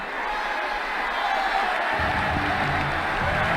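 Crowd applause and cheering for a boundary shot in an Ashes Cricket 2009 video game match, a steady broad roar filling the whole stretch at a fairly loud level.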